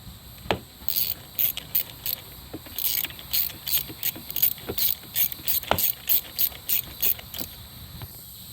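Tools working on the negative terminal of a Nissan Rogue car battery: a rapid ratcheting clicking in quick bursts with occasional sharper metallic taps, close and fairly steady, with no talking.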